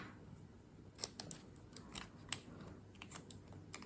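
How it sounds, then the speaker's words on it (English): Scissors snip through folded paper and a glue dot while making a peephole card, a few sharp crisp cuts spaced apart over quiet room tone, close to the microphone. "cut through the glue dot twice"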